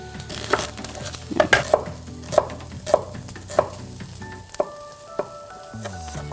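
Pork loin steak sizzles steadily in a hot pan, overlaid with a series of sharp clinks and taps of utensils against the pan and dishes, ending in a brief ringing tone.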